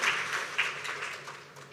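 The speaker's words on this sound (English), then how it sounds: "a round of applause" Light audience applause at a campaign launch, a brief scattering of claps from a modest crowd, fairly faint and fading toward the end.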